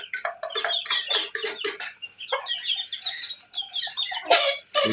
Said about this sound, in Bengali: আপনার ফার্মি মুরগির বাচ্চা।